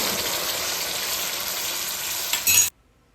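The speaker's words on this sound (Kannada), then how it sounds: "ಹುಣಸೆಂದು ಅದನ್ನು ಹಾಕ್ಕೊಂಡು ನೀಟಾಗಿ ಮಿಕ್ಸ್ ಮಾಡ್ಕೋಬೇಕು ಒಗ್ಗರಣೆ ಜೊತೆನೆ" Cooked tamarind stirred into a sizzling tempering for puliyogare gojju, a steady close hiss and fry with a brief louder stir near the end before it cuts to silence.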